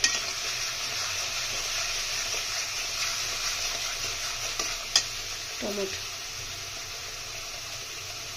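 A turmeric spice paste sautéing in a pan gives a steady frying hiss with a soft scrape and a brief clink near the middle, close and continuous with no voices.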